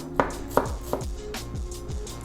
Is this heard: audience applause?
no